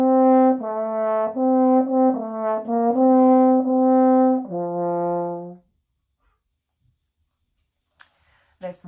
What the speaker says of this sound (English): And I know that song on the French horn as well.